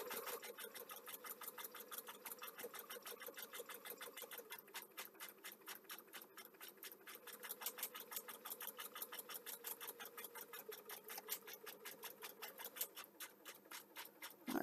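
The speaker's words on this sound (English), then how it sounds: "I need the industrial overlocker going." An industrial overlocker sewing machine runs nonstop, its rapid even stitching chatter holding a fast mechanical rhythm. The sound stays steady and fairly quiet with no speech.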